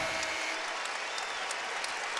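A basketball crowd at the Smith Center applauds in a dense, steady wash of clapping that holds evenly at full volume from start to finish.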